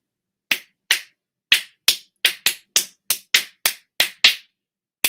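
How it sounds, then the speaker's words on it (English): A series of about a dozen crisp, close hand claps in a loose, uneven rhythm, each sharp and dry against silence. "if we clap our hand, this is the sound"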